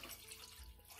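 Water pours from a jug into a cooking pan for a spaghetti seekh kebab sauce, a continuous close splashing rush with a low thud partway through.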